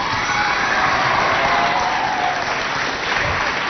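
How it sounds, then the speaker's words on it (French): Audience applause in a studio for a live TV show, a steady dense clapping from a crowd that holds loud and even throughout, with faint cheering mixed in. "ça s'applaudit quand même, hein, elle a osé."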